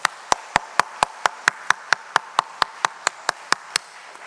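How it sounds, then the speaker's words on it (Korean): Rhythmic unison clapping from a church congregation, about seventeen evenly spaced sharp claps at a steady beat, fairly close, with no other voices over them. "우리 다시 한번 뜨겁게 박수하겠습니다."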